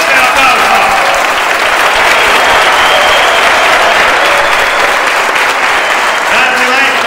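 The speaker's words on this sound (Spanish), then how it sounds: "¡Fuerte aplauso!" Loud, sustained applause from a crowd at a tango milonga, many hands clapping densely and evenly at close range, with faint voices mixed into the wash.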